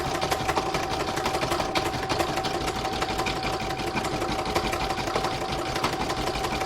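A computerized embroidery machine stitches a snowman coaster design, its needle hammering in a fast, steady mechanical rhythm with a constant motor whine throughout, close and loud with no pauses.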